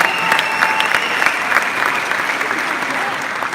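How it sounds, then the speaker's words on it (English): Applause from an event audience in Cape Town, steady and dense, continuing loudly on its own for several seconds after a host introduces a guest. "give a huge round of applause to Mr. Tony Dalcoe"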